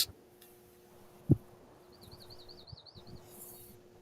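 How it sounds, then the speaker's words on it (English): Small birds chirping outdoors at sunrise, with a thin, warbling trill and a few faint tweets over a low steady background hum and one brief nearby thump. "Let's just listen to the birds."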